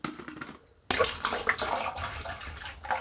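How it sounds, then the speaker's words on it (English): Water is poured into a bottle while topping up a homemade hard pink lemonade brew with jam and sugar, a sudden close, steady splashing gush that starts abruptly and runs continuously to the end. "just going to add a bit more water to here"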